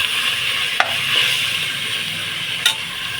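Chicken biryani masala sizzling and frying in a pan, a steady hiss with a couple of sharp stirring clinks of a utensil against the pan, no talking.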